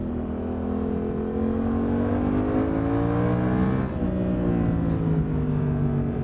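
Suzuki V-Strom 800 RE motorcycle engine riding through curves, a steady droning hum whose pitch rises through the gears, dips briefly, then climbs again, heard close and continuous without speech.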